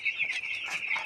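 Eleven-day-old chickens on a poultry farm cluck and cheep close by in a quick, overlapping series of high calls.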